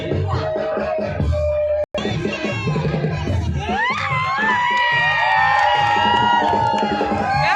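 An audience at a Kali puja program cheers, with a loud, continuous mix of crowd shouting, children's voices and high whoops that builds toward the end.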